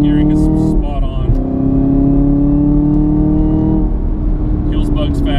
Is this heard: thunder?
no